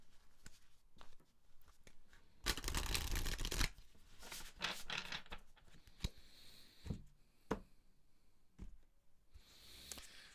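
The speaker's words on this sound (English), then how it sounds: "One more shuffle, and then I'm just going to cut them and take them." Tarot cards are shuffled up close in a quiet room, with one loud riffling burst and then softer flicks, taps and slides of the deck.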